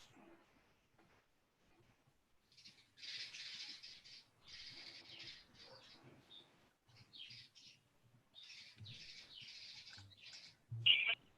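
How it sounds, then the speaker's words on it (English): Birds chirp faintly in short, high twittering bursts that come and go over quiet background, with brief soft rustles between. "I hear some birds chirping."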